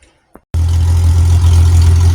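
A Jeep engine and exhaust start up abruptly after a brief quiet moment, then settle into a loud, steady, deep rumble close by.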